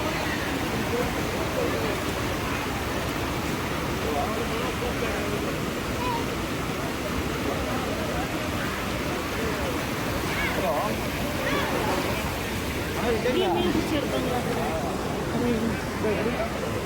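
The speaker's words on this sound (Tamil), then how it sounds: "தண்ணி வேகமாக போகுது" Fast-flowing river water at Hogenakkal rushes steadily and loudly throughout, a continuous broadband roar with voices and splashing faintly mixed in.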